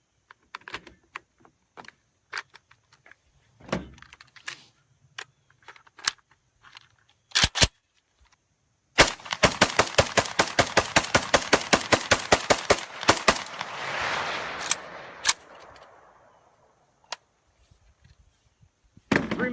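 A rifle rapid-fires through a Pro mag magazine at an outdoor range, a long, fast, loud string of sharp shots with a ringing tail, preceded and followed by scattered clicks and handling noises.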